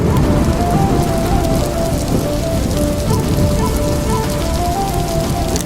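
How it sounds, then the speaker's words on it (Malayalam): Steady, heavy rain pattering continuously on surfaces, a dense even hiss with a faint tonal hum in the background throughout. "മഴ പെയ്യാൻ ആരംഭിച്ചു"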